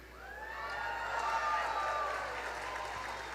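Graduating medical students at a Match Day ceremony applaud in a large crowd, a dense, steady wash of clapping with some cheering that swells and holds throughout.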